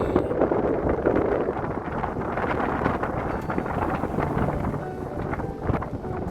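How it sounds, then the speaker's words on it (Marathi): Strong wind at Sigiriya, Sri Lanka, buffets the microphone in a steady, loud rumble with gusty roar throughout; no voices. "वारा खूप आहे."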